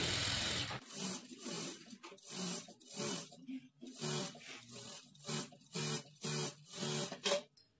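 A sewing machine stitches along the waistband edge of a work blouse in short repeated runs, a rapid mechanical whir that starts and stops about a dozen times, close up and alone.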